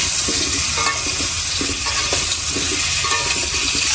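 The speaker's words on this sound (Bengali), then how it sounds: "পটলগুলো প্রথমে ভাজা নিব" Loud, continuous sizzle of pointed gourd frying in hot oil with turmeric and salt, broken by repeated scraping stirs of a utensil against the pan.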